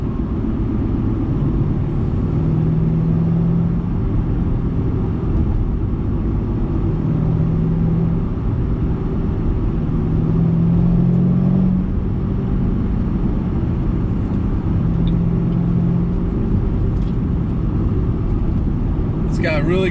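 A naturally aspirated V8 in a 2007 Shelby GT drives around town, its engine rumbling steadily and loudly throughout with a few mild rises in revs, heard from inside the car.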